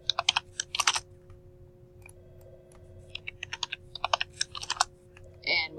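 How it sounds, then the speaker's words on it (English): Clattering keystrokes on a computer keyboard come in quick bursts with short pauses between them, close and fairly clear, with no voices. "Or I'll just simply type 10 3/4 inches."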